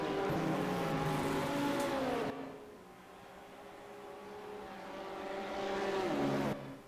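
GT3 race cars in the Automobilista video game at Albert Park scream past close by, engines rising and falling in pitch. A brief quieter stretch follows before another car approaches and sweeps through.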